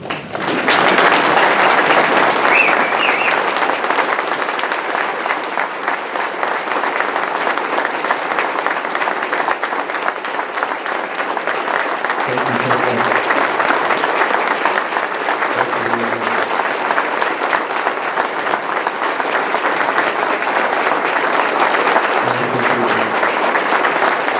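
Sustained audience applause fills a Rotary club gathering in Columbia, South Carolina, welcoming Medal of Honor recipient Corporal Kyle Carpenter; the clapping stays dense and steady throughout, with no talk over it.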